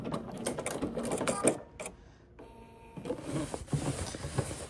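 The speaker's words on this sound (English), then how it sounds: "we're gonna back stitch here when we're back to that seam" A sewing machine back stitching along a pants seam, its mechanical whir running steadily with a brief pause in the middle before resuming.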